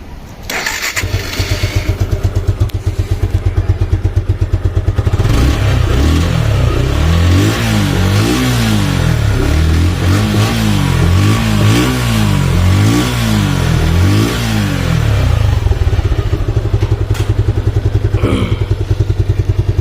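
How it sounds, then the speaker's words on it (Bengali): A Suzuki Gixxer Monotone black motorcycle, a second-hand bike, starts up and its single engine idles loudly and close by, then revs repeatedly in rising and falling surges before settling back to a steady idle, with no talk. "দেখাবো আপনাদেরকে বাইকটির সাউন্ড কন্ডিশন"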